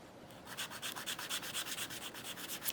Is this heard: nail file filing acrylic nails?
yes